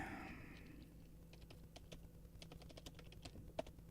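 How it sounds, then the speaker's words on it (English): Keys clatter on a computer keyboard in short irregular bursts of quick taps, close and soft over a low steady hum, with one sharper keystroke near the end and no voices. "that's me typing to Miami Nights"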